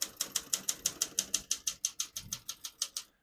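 Rapid, evenly spaced clacks of a 1965 Olympia SM7 manual portable typewriter's keys, about six strikes per second, crisp and close, with no voices.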